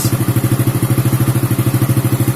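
An old Honda Supra motorcycle engine fitted with a Shogun CDI runs at idle, loud and close, with a steady rapid thumping pulse and mechanical clatter.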